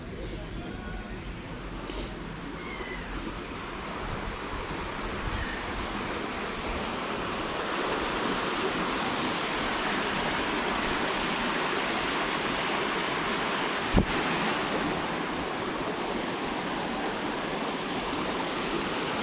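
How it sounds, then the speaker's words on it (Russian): A river meets the sea at Yalta, Crimea, rushing continuously in a broad, steady roar, loud and enveloping, with a brief sharp knock midway. "Слияние реки с морем. Водопадная река."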